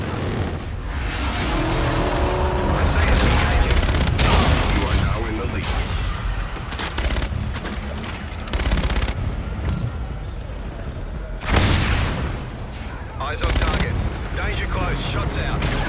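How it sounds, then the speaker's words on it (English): Aircraft strafing gun run in a first-person shooter video game, loud sustained bursts of heavy automatic fire and rumbling impacts filling most of the stretch, with a brief lull then renewed fire, mixed with game voice chatter. "Roger, inbound for gun run."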